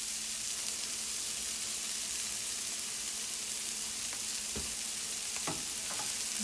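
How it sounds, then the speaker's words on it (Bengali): Onions for a mushroom masala fry steadily in a pan, a constant even sizzle with a few soft stirring knocks toward the end. "এগুলো আমি এবার অল্প করে একটু ভেজে নেব।"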